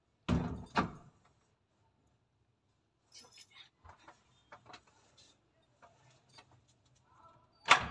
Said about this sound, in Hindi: चलो दरवाज़ा बंद कर लो